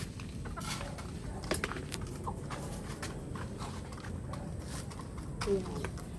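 White Kelso chickens eat feed, with clucking and scattered pecking over steady low farmyard noise, and a voice talks at a distance.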